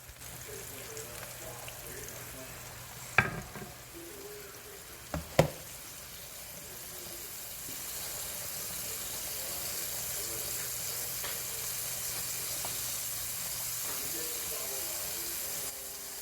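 Cube steak and onions fry in grease in a pan with a steady, broad sizzle that swells slightly later on, broken early by two sharp knocks from the pan.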